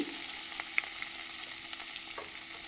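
Spices, ginger and garlic stirred and fried in a pan for palak paneer, a continuous sizzle with faint scrapes and light clicks of a spoon against the pan.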